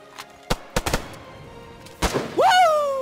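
Several sharp gunshots crack from a firearm in the survival video game DayZ, coming in separated single and double bursts, followed by a voice shouting over the last shot.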